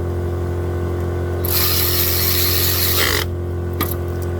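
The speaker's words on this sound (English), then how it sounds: "since I use the air tool, since I use the cordless ratchet, I'm going to go over it by hand one more time" Cordless ratchet driving bolts into the water pump of a 2008 Ford Focus, one close, high whirring burst of about a second and a half that cuts off sharply, followed by a brief metallic click.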